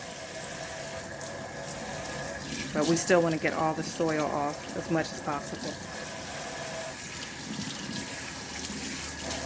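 Steady running water from a sink tap fills the background throughout, with a person talking over it for a few seconds in the middle.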